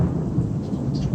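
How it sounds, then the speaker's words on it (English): Thunder rumbles low and continuous under steady rainfall, a dense stormy wash as a sound effect, fairly loud and with no voices. "there we go, a little bit of lightning for special effects"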